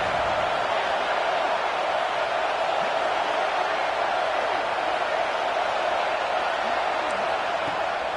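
Loud, steady roar of a large stadium crowd at a Georgia versus Oregon college football game on third down, a dense wash of noise that holds constant for the whole stretch without pause.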